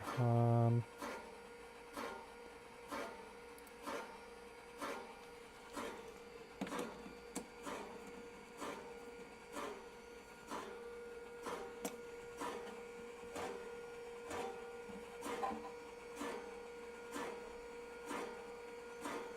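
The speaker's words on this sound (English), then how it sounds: "What is this scraping?" Inside a Skywalker V1 coffee roaster, a scraping sound recurs in regular periodic ticks over a steady motor hum, close and moderately faint, after a brief louder burst at the start.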